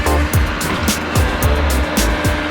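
A McLaren sports car arrives, its engine note rising and falling in quick repeated revs with a sustained motor roar close by.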